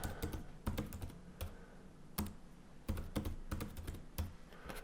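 A password typed on a computer keyboard: close, clicky keystrokes arriving in short irregular bursts with brief pauses, no voices.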